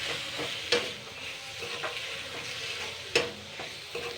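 Steady sizzling of chickpeas frying in a pan with a utensil scraping and stirring, punctuated by two sharper clinks against the pan.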